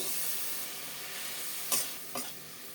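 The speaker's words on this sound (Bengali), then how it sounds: "ধনে জিরে হলুদ গুঁড়ো অল্প জল দিয়ে মশলা কষিয়ে নেব" Ground coriander, cumin and turmeric sauté with a little water in a pan over tomatoes for an aloo gobi curry, giving a steady soft sizzle with two brief stirring scrapes near the end, no talking.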